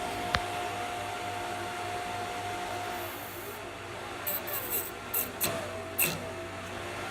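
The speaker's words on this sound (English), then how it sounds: "the fan is just going like mad" A small electric fan powered through alligator clips runs fast with a steady, even whir, joined by a few brief clicks and rattles near the end.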